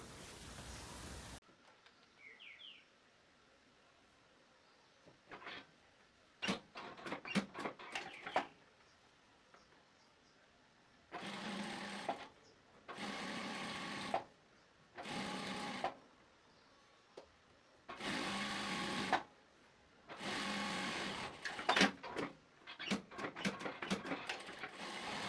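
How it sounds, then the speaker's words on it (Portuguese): A straight-stitch industrial sewing machine runs in short repeated bursts while sewing women's trousers, each whirring run lasting a second or two, separated by quiet pauses and small clicks. "agora a gente vai lá na reta para fazer a costura"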